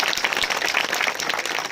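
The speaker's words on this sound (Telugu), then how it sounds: "అందరు చప్పట్లు కొడదామా?" A church congregation at a Hindi-Telugu sermon claps together in a brief, dense burst of applause.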